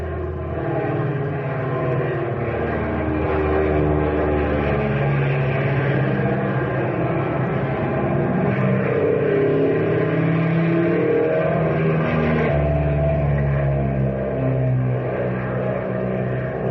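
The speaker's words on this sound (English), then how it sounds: "What an engine, and she sure handles like a breeze." A small propeller airplane engine in flight, a continuous steady drone with a low hum and droning harmonics, loud and close, with no speech.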